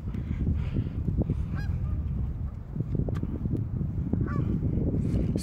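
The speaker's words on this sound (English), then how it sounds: "Look at these ducks." Ducks call on a lake outdoors, with a few brief, distant honking calls rising above steady wind and water noise.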